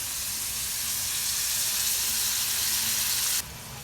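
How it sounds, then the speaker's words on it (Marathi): Chopped onion sautéing in a hot pan for tomato chutney gives a steady, bright sizzle. It stays even throughout, then drops slightly in level near the end. "आता एक कांदा चांगला असा परतून घ्यायचा आहे."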